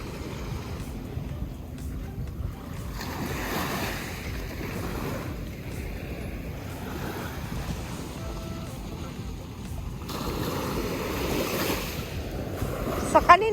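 Ocean waves wash continuously at a beach during camping, a broad soft roar with gentle swells and a stronger surge near the end, with faint voices and wind in the background.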